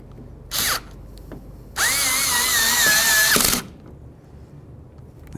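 A cordless power drill drives screws into a 2008–2012 Jeep Liberty outside door handle, giving a short whirring burst followed by a longer buzzing run with a wavering pitch, then stopping.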